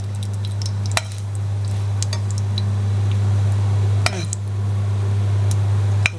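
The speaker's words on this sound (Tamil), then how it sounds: "நல்லா கடுகு பொரியட்டும்" Mustard seeds spluttering in hot oil for a butter beans poriyal, a dense fizzing crackle with a few sharp pops over a loud steady low hum.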